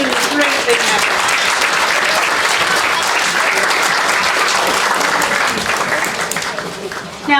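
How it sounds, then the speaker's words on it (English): A crowd gathered outdoors for a school district announcement claps loudly and continuously, a dense, close roar of applause that tapers slightly near the end. "give a huge round of applause to LPS for making this great thing happen"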